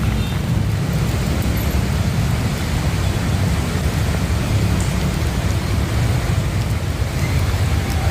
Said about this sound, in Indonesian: Hujan deras yang mengguyur Jakarta juga membuat Jalan Ciledug Raya atau Seskoal tergenang air setinggi 30 cm